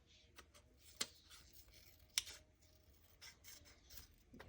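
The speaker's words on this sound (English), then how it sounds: "I'm just going around the edge with these little scissors, so I can just cut it out as close as I can" Small scissors cut around the edge of a paper page, giving faint, close snipping and rustling with a couple of sharper clicks of the blades, alone in a quiet room.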